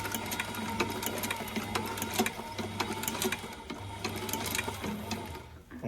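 Sewing machine stitching a split vamp on a Loake 1880 leather brogue shoe, a fast continuous mechanical whir with steady needle ticks, close and unbroken.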